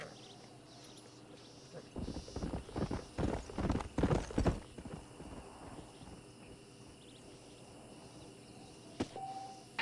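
A Kentucky Saddler horse in Red Dead Redemption clip-clops in a quick burst of hoofbeats for a couple of seconds, then fades to quiet ambient game sound, with a faint tonal cue near the end.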